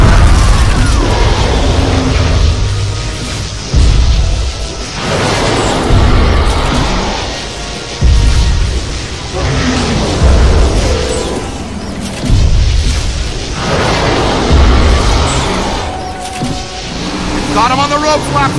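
Loud, continuous energy-beam blasts from boson guns in the Ghostbusters video game, with repeated booming bursts and mechanical whirring surging over about eighteen seconds, mixed with game music and voices.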